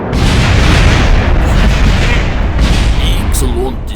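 A spacecraft crashing and blowing apart in Kerbal Space Program, a loud, sustained roar of explosions and rumbling booms that slowly thins out, with a few scattered pops near the end.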